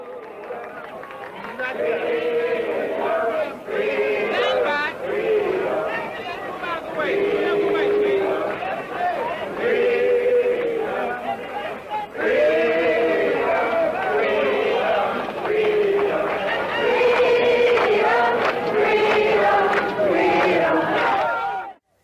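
A large crowd gathered at the March on Washington, well over 25,000 people: loud, continuous babble of many voices with rising shouts and chanting swells, sustained across the whole stretch before cutting off abruptly at the end.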